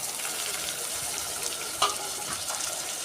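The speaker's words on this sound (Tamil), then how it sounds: "இஞ்சி பூண்டு பேஸ்ட்டு சேர்த்து பாருங்களா, நல்லா வதங்குது அந்த எண்ணெயில்" Ginger garlic paste with tomato sautéing in hot oil for a prawn kuzhambu, a steady close sizzle and frying hiss with a brief stir or clatter midway, no talking.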